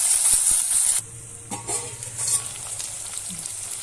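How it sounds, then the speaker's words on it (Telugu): Tomatoes frying in a pan for Andhra pappu charu, a bright loud sizzle for the first second, then a quieter steady hiss with occasional stirring clinks. "ఇప్పుడు ఇందులో టమాటా వేసుకున్నాం. కొంచెం ఇది మగ్గనిద్దాము."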